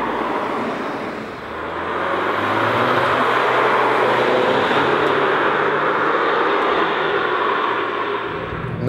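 A front-wheel-drive Seat Leon Cupra with a manual gearbox climbs Montserrat Mountain, its engine a loud, steady roar with road and wind noise, the pitch dipping briefly and then holding firm under load.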